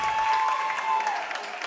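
Fans at a state championship basketball game applaud and cheer in a brief, steady burst of clapping and crowd noise that fades slightly at the end.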